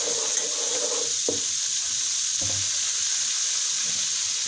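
Garlic, ginger and onion paste frying in hot oil in a pan for a curry sizzle steadily and up close, with a couple of soft stirring scrapes against the pan.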